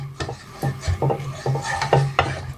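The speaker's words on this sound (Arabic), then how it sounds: "هنبتدي نضيفه على اللبن بتاعنا ونقلب" A spoon stirs dissolved starch into milk in a pot while making homemade yogurt. The close wooden scraping and rubbing strokes repeat in an even rhythm, about six of them, with no talking.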